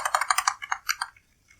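Quick keystrokes on a computer keyboard while entering terminal commands, a rapid run of close, crisp clicks that taps out and falls quiet after about a second.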